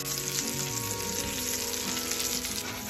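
Pork chops frying in a pan with butter and garlic give a steady, loud, crackling sizzle that holds without pause, with faint clinks of stirring underneath.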